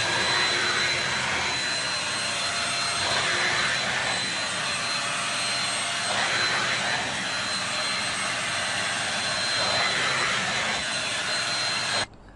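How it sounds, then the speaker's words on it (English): A Shark Rocket cordless stick vacuum gives a steady, loud whine with a high tonal hum and broadband hiss, running close by continuously before cutting off abruptly at the end. "Here's a video of the Shark Rocket being used."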